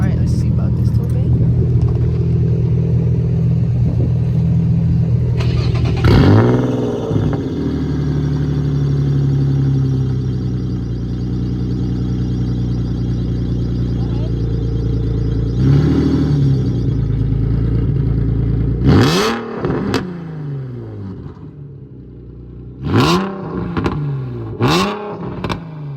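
An Infiniti G35 with a Tomei exhaust idles with a steady low rumble, then revs hard in several sweeping bursts, loud and close, while people talk nearby.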